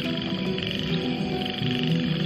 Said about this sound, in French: Je vous présente Chiromantis doriae, qui est une grenouille arboricole